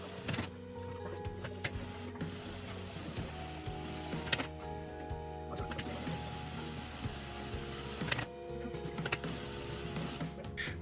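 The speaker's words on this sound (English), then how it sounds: "just cutting it off and back to the sewing machine." Mechanical stitching from a sewing machine sewing T-shirt pieces runs in steady bursts with short pauses, a close, busy motor whir and needle clatter throughout.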